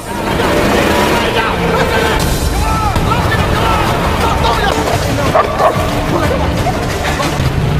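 Dogs with soldiers bark and yip during a chase through a forest, heard amid dense, busy film soundtrack noise and a narrating voice throughout.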